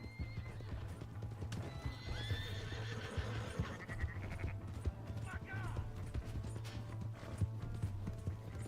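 A horse in the video game Red Dead Redemption 2 trots with steady clip-clop hoofbeats and gives a clear whinny midway, set against a busy game soundtrack.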